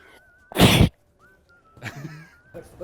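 One loud, sudden sneeze bursts out close up, with faint background sounds and a brief catlike vocal noise afterward.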